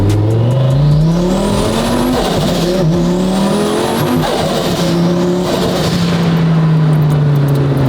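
A loud twin-turbo Lamborghini V10 engine revs hard and close, its pitch climbing and dropping through several aggressive pulls, with no voices over it.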